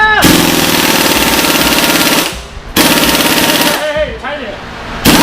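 Impact gun fitted with a 22 socket hammers on a Silvia S13.5 during a 2JZ swap, loud rapid rattling bursts in two long runs separated by a short pause, with voices talking between and over them.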